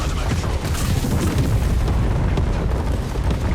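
A dense, sustained roar of explosions as an enemy headquarters is destroyed in the Tempest Rising strategy game, loud and continuous with rumbling low end throughout.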